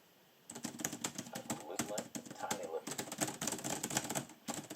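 Rapid, irregular clicking of keys on a cheap, plasticky and bouncy Geobook 1E laptop keyboard, close and fairly loud, a quick stream of taps with short pauses between bursts.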